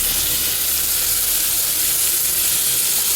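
Mutton head curry with bottle gourd, coconut masala and green chillies bubbles at a steady boil, giving a dense, even hiss and fizz that stays constant throughout.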